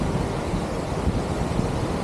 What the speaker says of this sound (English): Damn, the wind.